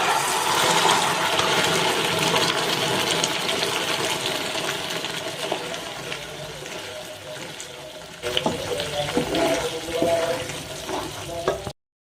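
Cooked raw rice for a rice payasam is poured into a thick-bottomed pot. A wet, continuous pouring and sloshing gives way to scraping clatters before it stops abruptly.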